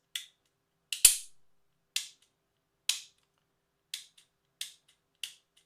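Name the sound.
trigger of a Smith & Wesson M&P Shield X pistol dry-fired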